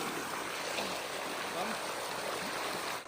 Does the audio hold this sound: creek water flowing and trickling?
yes